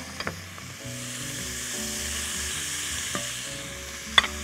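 Onions frying with meat in a pan for okra stew, a steady close sizzle with stirring scrapes and a couple of sharp clinks, heard alone.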